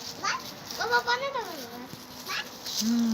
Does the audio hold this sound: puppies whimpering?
yes